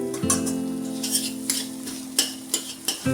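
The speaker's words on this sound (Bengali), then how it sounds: "লবণ দিয়ে আমি ডিমটাকে ভেজে নেবো বা ডিমের ভুজিয়া বানিয়ে নেবো" Egg fries with salt in a pan, giving a close, bright sizzle over a low steady hum, with regular spatula scrapes and taps about every half second.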